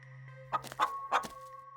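A few short clucks from chickens in the video game Scarlet Hollow, with a steady background hum and soft game ambience.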